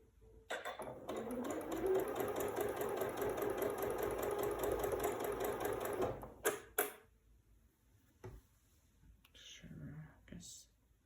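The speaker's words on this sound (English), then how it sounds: "Let's get this sewn up." Sewing machine stitching quilt block pieces together, a steady close mechanical whir for several seconds that then stops, followed by a few clicks and soft handling of fabric with quiet speech.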